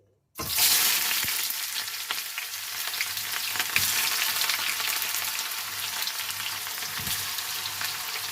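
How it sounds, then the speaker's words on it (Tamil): Onions dropped into hot oil burst into a loud, steady sizzle that continues evenly for several seconds with a few faint clinks, close and without any talking. "அதுக்கு முதல்ல வெங்காயத்தை போடுறேன்."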